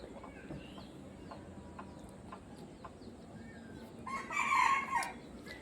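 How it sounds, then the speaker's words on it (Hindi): A rooster crows once near the end, loud against a quiet outdoor background with faint bird chirps, in a farmyard where hens and chicks are also kept. "कुकड़ू कर रहा है, कौन है वो?"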